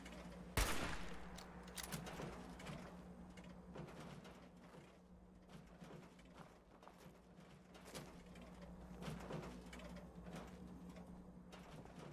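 Gunfire in Fallout 4, one sharp loud shot near the start followed by a scattering of fainter, irregular shots and clicks over a steady low hum.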